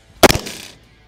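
A single sharp gunshot from a Stag Arms 6mm ARC rifle during long-range prairie dog hunting outdoors, a loud crack with a short decaying tail.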